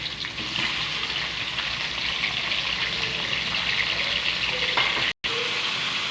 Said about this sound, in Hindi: अब मैं डालूँगी चिकन और इसे हल्का सुनहरा कर